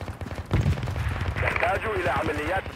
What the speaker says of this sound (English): Oh, I don't know what's shooting.